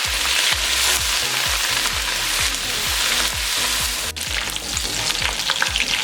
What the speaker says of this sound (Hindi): अब इसको बहुत अच्छे से 2 से 3 मिनट के लिए भून लेंगे।